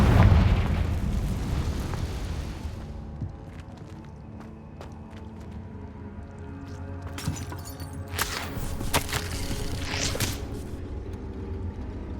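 In Hogwarts Legacy, a loud Confringo spell blast opens with a deep booming burst that rumbles and fades over a few seconds, followed by footsteps, crackling debris and sharp magical zaps and pops.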